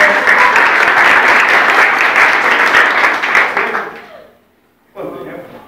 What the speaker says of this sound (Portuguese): Quero palmas para o Emerson